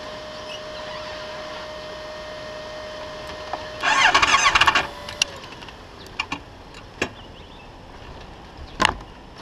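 A motorcycle in Pai, Thailand, broken down and out of oil, gives one brief starter crank of about a second. Scattered sharp clicks and taps follow in an otherwise quiet outdoor setting.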